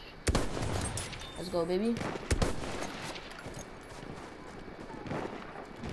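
Sniper rifle fire in the online video game Battlefield 1: a few sharp, loud reports punctuate busy battle noise, while a player talks excitedly.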